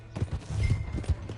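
Horse hooves clip-clop in a video game, a few uneven thuds at close range with no talk over them.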